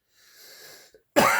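A single sharp cough bursts out close and loud after a faint stretch of breathy noise and a tiny click.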